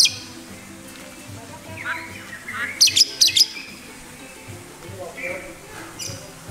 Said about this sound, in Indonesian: Nah, ini kenari.